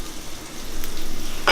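Mushrooms frying in a pan for dinner, a steady close sizzle with faint stirring, swelling slightly louder toward the end with a brief scrape.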